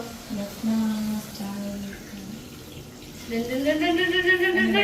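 Milk is poured into a cooking pot in a home kitchen, a liquid splashing and gurgling sound that grows fuller and rises in pitch as the pot fills, with people talking underneath.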